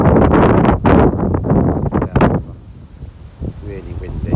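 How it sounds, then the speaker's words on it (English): Gusty wind buffets the microphone on the bank of a carp fishing lake in France, a steady rushing roar with speech over the first half before it eases into quieter gusts. "Really windy."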